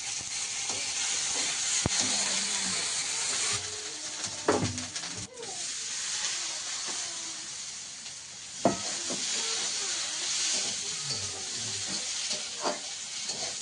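Ginger-garlic paste and spices frying in oil for a curry: a steady close sizzle and hiss, with scraping stir strokes and a few clinks throughout.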